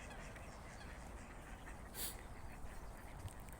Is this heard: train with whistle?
no